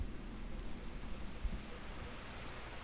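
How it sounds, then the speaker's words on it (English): Steady, faint rain in the Final Fantasy 12 video game, a soft continuous hiss with low rumble and a small thump partway through, heard alone without talking. "It's raining."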